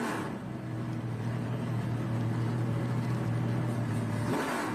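Trans Am race cars at VIR, Virginia International Raceway, send a continuous engine roar across the track, a steady droning hum that holds for several seconds before easing off at the end.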